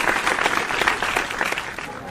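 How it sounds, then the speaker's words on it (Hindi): A crowd at a Hindi poetry gathering (kavi sammelan) in Indore applauds steadily, a dense patter of many hands clapping throughout, moderately loud. "आप तालियां बजा करके"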